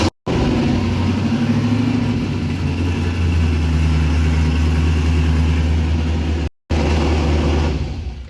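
A C4 Corvette engine, freshly fitted with a 4L80E automatic transmission, idles steadily and loudly up close, a continuous low rumble broken by two brief cutouts before fading at the end.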